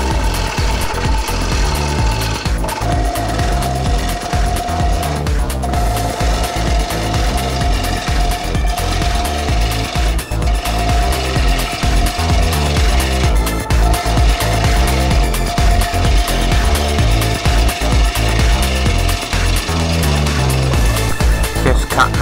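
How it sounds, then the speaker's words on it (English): A piece of 3/4 inch pine being hollowed out with a power tool, a steady loud grinding and whirring drone with a tonal whine that runs continuously throughout, close up and with no talk. "All I had here was a piece of 3/4 inch pine, so I have to hollow it out very carefully."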